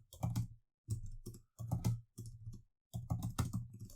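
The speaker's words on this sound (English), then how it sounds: "Why I'm typing?" Someone types on a computer keyboard in quiet, close bursts of rapid key clicks separated by brief pauses.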